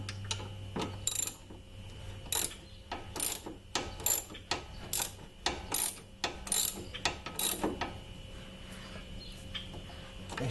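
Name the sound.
ratchet tightening drive belt pulley on 2005 Kia Sedona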